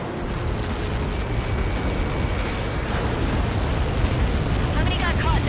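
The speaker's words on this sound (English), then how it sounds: "How many got caught in that explosion?" A large explosion on impact in the flight game Ace Combat 7 rumbles as a dense, continuous roar, loud and sustained throughout with no pauses, with a faint mechanical whine underneath.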